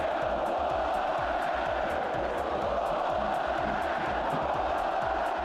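Football crowd in a stadium at a Palmeiras match, a dense, loud wall of massed voices shouting and chanting continuously throughout, with no pause or break in the roar.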